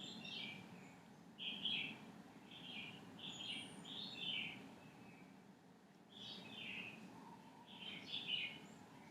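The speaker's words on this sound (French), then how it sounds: "D'ici, on entend les oiseaux." Birds sing around a meditation room near the ocean, giving repeated short chirps and warbling phrases in scattered bursts, fairly faint and distant over a low steady background hum.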